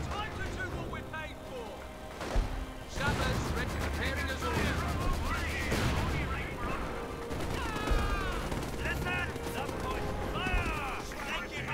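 A Stuka dive bomber firing in the WWII strategy game Company of Heroes 2, with rattling bursts and booming impacts amid a dense battle din of gunfire, explosions and whistling effects, continuous and loud throughout.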